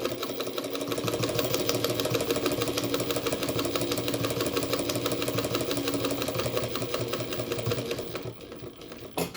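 A sewing machine stitching steadily at a fast, even rhythm, loud and close with a continuous mechanical whir and rapid needle ticking, slowing and fading near the end; no talking.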